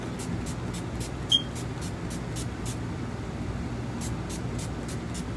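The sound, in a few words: makeup setting spray being sprayed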